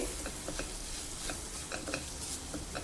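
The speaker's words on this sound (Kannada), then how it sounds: "ಈಗ ಇದು ಚಿಕ್ಕನ್ನು ಚೆನ್ನಾಗಿ ಹುರ್ಕೊಂಡಿದ್ದೀನಿ" Mashed sapota (chikku) roasting in a pan while being stirred, a steady close sizzle and frying crackle with repeated soft scraping strokes of the stirring.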